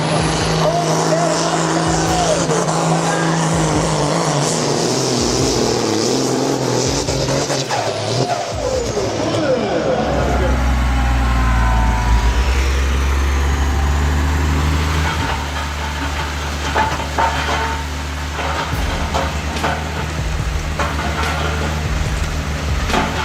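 A 4.5-ton Super Sport pulling tractor roars loud and close at a tractor pulling event in Zimmerwald, its engine rising and sliding in pitch, then dropping into a deep heavy rumble, with a commentator's voice over it.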